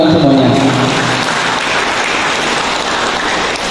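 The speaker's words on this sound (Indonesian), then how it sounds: "tepuk tangan untuk kalian semuanya." A group claps at a workplace-readiness training session, producing a dense, steady wash of applause that holds at even loudness for about four seconds.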